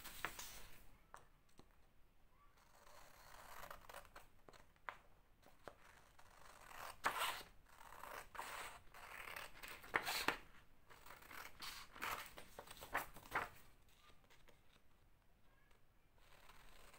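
Scissors cutting paper ephemera for a junk journal, a close, quiet series of crisp snipping and crunching cuts in irregular bursts with brief pauses, no talking.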